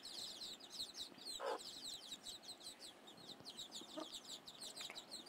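Free-ranging gavrani hens on a farm cluck and chirp in quick scattered bursts, fairly faint and layered, with a few louder calls standing out against the quiet outdoor background.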